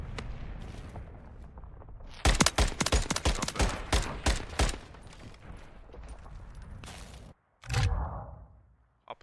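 Rapid bursts of gunfire from the video game Call of Duty MWIII during a competitive LAN match, loud, sharp shots in a dense cluster, then a pause and one more heavy blast near the end.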